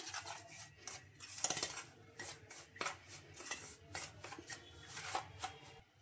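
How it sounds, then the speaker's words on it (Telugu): A spoon scraping and stirring egg and powder together in a bowl, close and fairly quiet, with repeated uneven rubbing strokes and small clinks against the bowl. "ఒకసారి మొత్తం స్పూన్ తోటి ఇలా బాగా కలిపేసుకుందాం"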